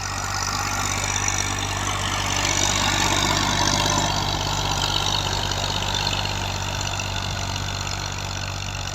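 A 1979 Massey 240 tractor engine running steadily nearby, a continuous low diesel throb with an even, unbroken rumble.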